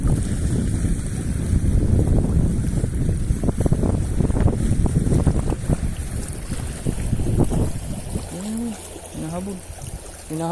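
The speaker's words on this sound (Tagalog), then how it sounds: "Siyempre sa lakas ng hangin" Strong wind buffets the microphone while fishing from a boat with an ultralight setup, loud gusty roar with water slapping, easing later as a voice speaks over it.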